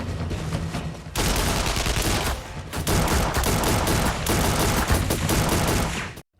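Dense bursts of rapid gunfire rattle loudly in a film battle scene, coming in sustained volleys broken by brief pauses before cutting off abruptly.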